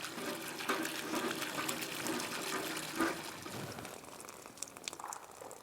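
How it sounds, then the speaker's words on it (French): Water sloshes and splashes with uneven pours and knocks at a village well, moderately quiet and close, with no talking over it. "Comme tous les matins, sa fille Zainab, 10 ans, s'affaire au puits."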